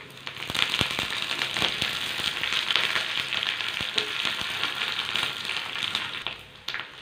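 Dried red chillies and curry leaves crackle in oil with browning onions for a green gram curry, a steady close sizzle with scattered sharp pops throughout, easing slightly at the end.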